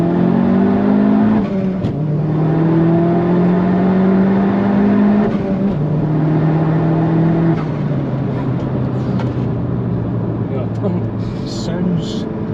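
A Vauxhall Astra VXR with a Klasen GenX exhaust manifold revs hard through the gears toward the red line, its loud engine note rising in repeated pulls from inside the car, with people talking over it.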